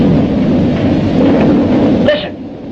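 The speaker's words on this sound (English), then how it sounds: "There's that thunder sound." A deep, rumbling roll of thunder builds and fades over a couple of seconds, fairly loud, with a sharper crackle near the end before it drops away.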